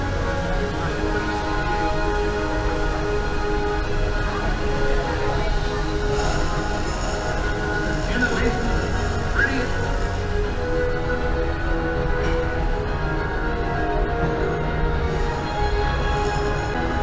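A daytime ride aboard the Walt Disney World Railroad train, a steady continuous rumble of rolling wheels and carriage noise, loud and close throughout, with faint squeals and a few brief sounds over it.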